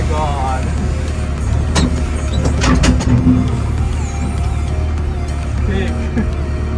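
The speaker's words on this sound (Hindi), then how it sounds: "फर्स्ट टाइम जेसीबी ड्राइव कर रहा हूँ मैं" A JCB backhoe loader's engine rumbles steadily while it is driven, with occasional sharp clanks and mechanical bursts over the drone, and people talking throughout.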